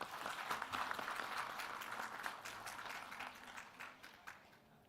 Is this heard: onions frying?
no